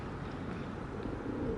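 Domestic pigeons cooing in a home loft, a continuous low murmur of soft overlapping coos with faint chirps, steady and moderately close.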